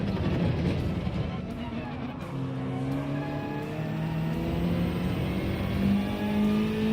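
A Mazda 3 engine revs steadily in a racing game, its rising whine climbing in pitch through the gears, continuous and moderately loud against a rushing background.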